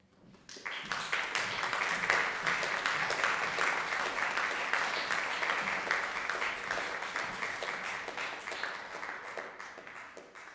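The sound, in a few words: audience applause for iPhone Ensemble performers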